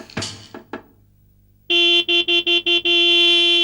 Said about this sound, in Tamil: என்ன ஆட்டோ ஹாரன் சத்தம் கேக்குது